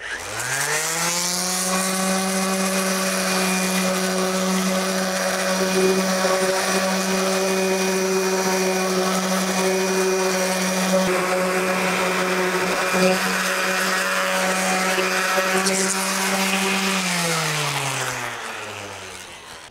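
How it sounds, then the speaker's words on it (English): An orbital sander runs across weathered wooden deck boards with a loud, steady motor whine and grinding drone that holds for nearly twenty seconds before winding down. "And then come in with the orbital sander, start at the edges, work my way back."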